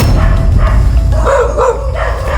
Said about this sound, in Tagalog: Daming aso dito ah.